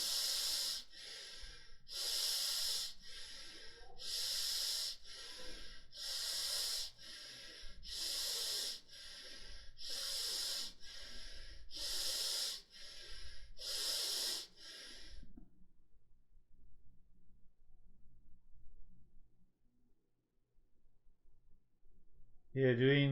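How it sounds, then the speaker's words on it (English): Deep, slow belly breaths during a kundalini-style meditation, a rhythmic series of loud, close breaths about every second and a half, then quiet before a voice begins at the very end. "You're doing the belly breathing. It's a longer breath."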